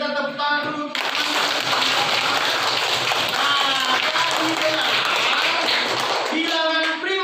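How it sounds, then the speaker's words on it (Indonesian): A fourth-grade class of pupils claps their hands together in a classroom, a dense burst of close clapping between stretches of children's voices at the start and end. "Oke, kita tepuk tangan dulu."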